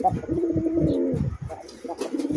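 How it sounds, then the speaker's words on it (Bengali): A male desi Raj Golla pigeon coos close by in repeated deep, throaty rolling bursts, fairly loud with short pauses between phrases and no voices. "দেখেন অনেক হাই ভোল্টেজ একটা নর কবুতর"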